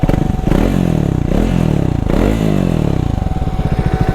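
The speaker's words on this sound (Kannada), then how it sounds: "ಒಳ್ಳೆ ಬೇಸ್ ಉಂಟು ಎಕ್ಸಾಸ್ಟ್." A Hero Xpulse motorcycle engine revs up loudly several times, a deep, bassy, throaty exhaust rising and falling close by.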